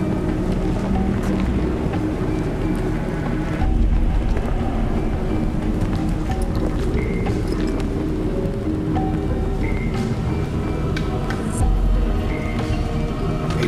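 Wind blowing steadily through an outdoor level of the video game Assassin's Creed Brotherhood, a continuous broad rushing wash with faint game ambience and occasional soft tones layered over it.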